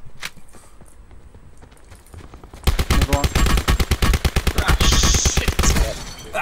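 Rapid automatic gunfire from the Blackout mode of a Call of Duty game on the Alcatraz map, a loud sustained burst of evenly spaced shots after a quieter stretch with faint movement sounds.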